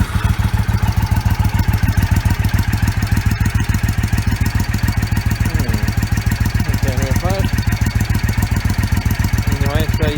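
A 2006 Triumph America air-cooled, carbureted parallel twin motorcycle idles with a loud, steady, rapid thumping pulse, close up, with a faint voice under it.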